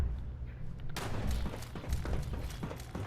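Muffled, scattered gunfire and dull thuds in the Fallout 76 video game, heard at a distance as a steady low rumble of shots after a sudden onset.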